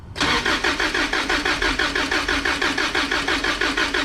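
Car engine cranking on the starter during a compression test, a steady rhythmic chug of even, loud pulses running nonstop for several seconds without catching.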